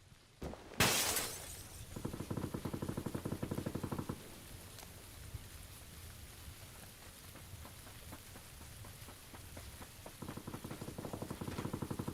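Rain in the battle royale game PUBG: a loud crash like breaking glass near the start, then a steady broadband hiss of rainfall with dense patter and rapid tapping that swells and fades in stretches.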